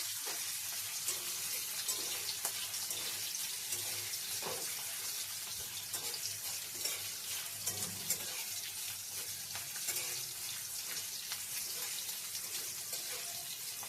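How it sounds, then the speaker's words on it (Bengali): Steady, broadband crackling sizzle of small chopped shrimp lightly frying in a pan, continuous throughout with faint clinks and no voices. "চিংড়ি মাছগুলোকে ছোটো ছোটো করে কেটে নিয়েছি বেশি ভাজবো না হালকা একটু ভেজে নেবো"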